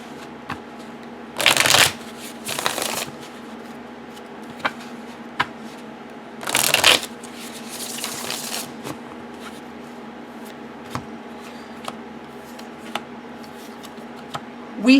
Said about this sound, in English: let's just pull 3 cards here